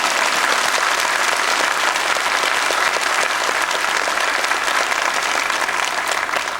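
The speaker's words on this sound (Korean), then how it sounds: "우리 하나님 앞에 다시 한번 영광의 박수 한번 보냅시다" Sustained audience applause fills a large gathering at a world mission conference lecture, loud and steady throughout with dense clapping and no speech over it.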